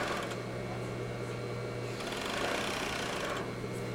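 A five-thread serger stitches the side seam of a skirt, its motor humming steadily and close for the whole stretch with a continuous fast rattle of needles and loopers.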